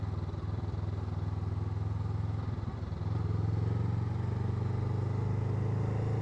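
A Honda Rebel 500 motorcycle rides mountain twisties, its engine a steady low drone heard from the rider's position, with a slight change in pitch partway through as it works through the curves, alone and without talk.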